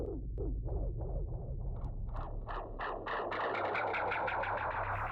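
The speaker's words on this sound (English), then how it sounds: "And now let's maybe add in a touch of delay." A synth tone repeats through an echoing delay, sweeping pulses bouncing back faster and piling up into a dense, swirling wash.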